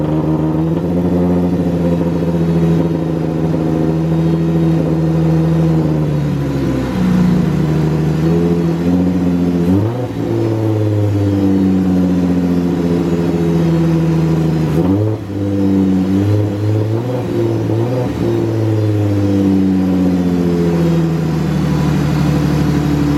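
Supercharged 3.7 L V6 Ford Mustang with an M122 GT500 supercharger and newly installed intercooler, its engine running loud and close with repeated revs rising and falling over a steady idle-like drone.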